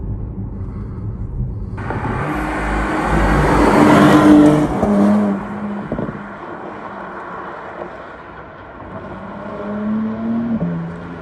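Cabin view of a 2021 Porsche Panamera 4S E-Hybrid as its V6 accelerates, the engine swelling to a rising roar over several seconds, then easing back to a steady hum with wind noise.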